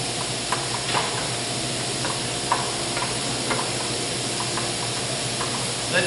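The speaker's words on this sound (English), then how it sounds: "we're going to deglaze with some chicken stock" A pan deglazed with chicken stock keeps up a steady bubbling sizzle, while a wooden spoon gives faint, scattered scraping ticks across the bottom.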